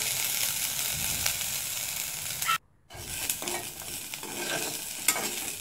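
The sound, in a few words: bitter gourd frying and being stirred in a pan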